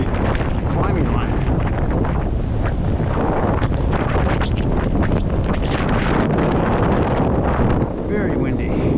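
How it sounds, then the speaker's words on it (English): Strong wind buffets the microphone of a tree climber rigging a massive dead spar, a loud continuous roar with gusty rumbling across the whole stretch. "Very windy."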